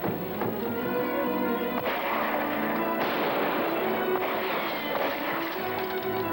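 Gunfire from guns in a film scene with shotguns, a dense continuous barrage of loud blasts and booms under a thick layer of music or noise, with no clear gaps.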